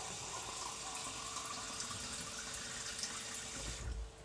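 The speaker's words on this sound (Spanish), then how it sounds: "Así que le voy a añadir el agua." Water poured from a half-litre jug into a cooking pot while preparing chicken with vegetables, a steady continuous splashing stream that runs alone for about four seconds, close and fairly loud.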